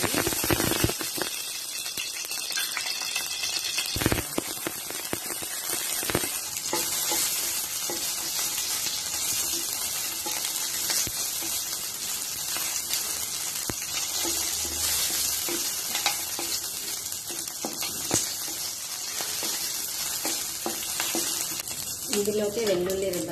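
Cumin seeds sizzle steadily in a little hot oil for a fenugreek-coriander chutney, a continuous close crackling hiss with occasional stirring clinks under a faint voice.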